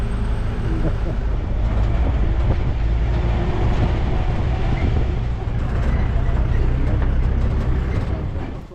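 An open safari vehicle rumbles steadily along the road by a gate of Ranthambore Fort in Rajasthan, with a continuous low engine drone and rattling body noise throughout and faint voices mixed in.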